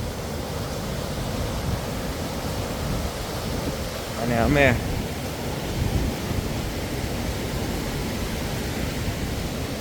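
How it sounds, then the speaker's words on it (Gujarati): Water flowing beside a walking track at Blue Spring, New Zealand, a constant broadband rush filling the scene, with a brief voice speaking over it midway. "બાજુમાંથી આવું પાણી વહેવું જતું હોય"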